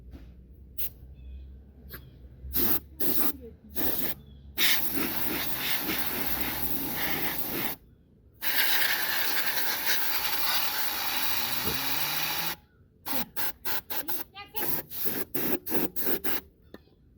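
Compressed air blows dust out of a computer during work on a new PC. Short, sharp hissing blasts come close by in quick bursts, followed by long sustained jets, then more rapid puffs, with no talk.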